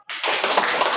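A classroom group breaks into applause, a burst of many hands clapping that starts abruptly and holds dense and close for a second.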